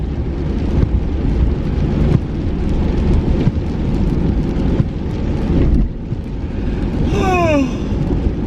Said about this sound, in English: It's been pouring down rain all night.